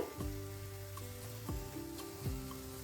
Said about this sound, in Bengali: এই পাশে আর এক মিনিট আমি একটু ভেজে নেব বেগুনগুলো